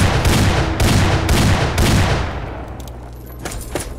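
Heavy gunfire in Fallout 3's The Pitt, four loud booming shots in a steady rhythm, then quieter scattered distant shots as the din trails off.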